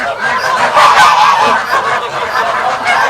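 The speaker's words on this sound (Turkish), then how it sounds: "çok gürültü var. Kazlar böyle geldiler. Benden yem bekliyorlar." A flock of farm geese honks loudly and continuously nearby, overlapping calls forming a noisy, chattering clamor.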